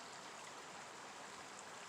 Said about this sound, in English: I'd rather just be enjoying the creek right now